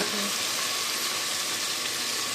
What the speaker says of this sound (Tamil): நல்லா வதக்கி எடுத்துடுவேன்